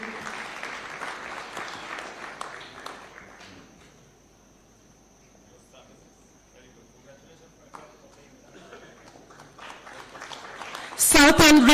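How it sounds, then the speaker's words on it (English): Audience applause for award recipients at a State House event in Kenya, rising from fading clapping into loud, dense applause near the end, with a steady high tone and some talk early on. "A round of applause kindly."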